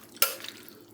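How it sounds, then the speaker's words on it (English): A spoon stirs a batch of freeze-dried pot roast noodles that has been cooling for about an hour, making one long, loud scraping and rustling pass followed by a brief second burst at the end, with no talking. "Just give this a good stir."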